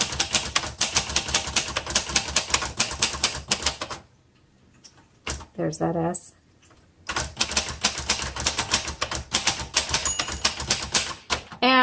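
A 1960s Singer Professional T-62 manual typewriter clacks in rapid close bursts of keystrokes, broken by a pause with a carriage bell-like ding and return, then more fast typing; a voice speaks briefly mid-clip.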